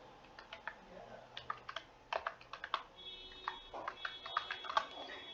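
Close, crisp keyboard clicks come in short irregular runs, with the typing growing denser and a little louder toward the end, in a quiet room.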